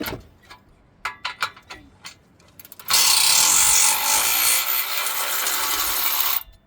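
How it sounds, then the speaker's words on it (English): A small ratchet wrench works at a stubborn bolt with a few scattered clicks and knocks, followed by a loud, continuous buzzing whir that runs steadily for about three and a half seconds up close. "I don't know if that little ratchet's gonna have enough oomph to bust that loose or not"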